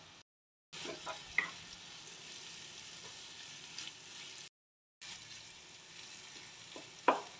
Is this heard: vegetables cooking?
yes